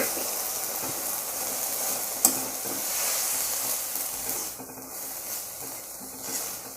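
Boiled broad beans and flat beans tossed into a hot pan for a poriyal, giving a soft steady sizzle with a few faint stirring scrapes and one brief clack, no voices.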